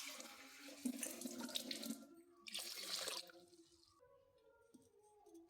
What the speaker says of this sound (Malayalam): നമുക്ക് വെള്ളം ഒഴിച്ചു കൊടുക്കാം ഒന്ന് കുതിരാൻ വയ്ക്കാം